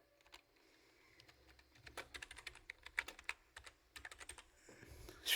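Keys clatter on a computer keyboard while Python quick sort code is typed, a soft irregular run of close clicks that starts sparse, thickens into dense bursts, then ends with a louder final tap.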